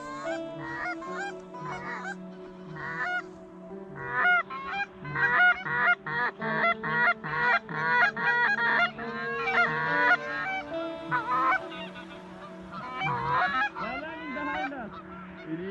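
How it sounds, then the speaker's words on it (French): A flock of geese circling overhead in Sweden honks repeatedly in loud, overlapping calls, rising and falling in waves, with no talking. "Ces oies qui tournent autour de nous sans nous voir."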